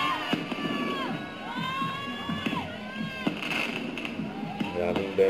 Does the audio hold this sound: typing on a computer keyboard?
no